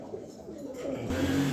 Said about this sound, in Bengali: এই হচ্ছে একটা মিলি কবুতর।